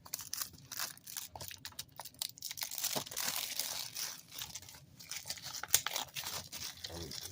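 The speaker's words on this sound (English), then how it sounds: "Really old cellophane here." Old, brittle cellophane wrapping crinkles and tears as it is peeled off a Blu-ray case, soft, close, irregular rustling bursts with short crackling pulls.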